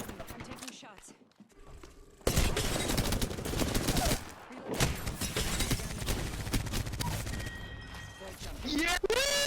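Video game gunfire rattles in dense bursts of rapid shots, loud and close, broken by short gaps, while players talk over it.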